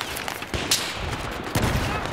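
Dense, continuous gunfire and explosions from a Battlefield 4 match on the Dragon Valley map, a steady battlefield roar broken by sharper bursts.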